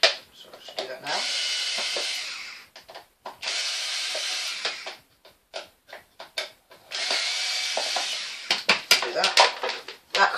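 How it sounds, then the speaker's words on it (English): A screwdriver, apparently powered, undoes screws inside a Numatic vacuum cleaner in three sustained buzzing whirs separated by short clicks and handling noises, close by. "you want to undo the three screws inside with your screwdriver."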